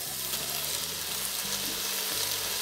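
Marinated beef for a curry frying in an Instant Pot, a steady loud sizzle with low bubbling and faint stirring, heard close and without voices.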